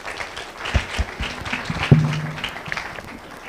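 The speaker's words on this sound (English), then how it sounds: "Everybody give Pastor Wallace a round of applause." After a pastor's talk at a monthly gathering, a short burst of audience applause rises and falls over a few seconds, with some voices and thumps mixed in.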